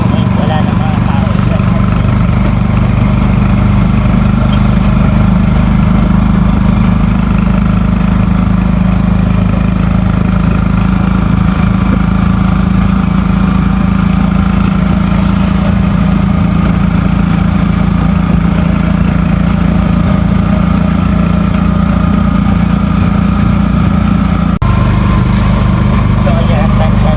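Close, loud, steady buzz of a motorized tricycle engine carrying passengers along a provincial road, running continuously with a slight change near the end, with voices speaking over the drone.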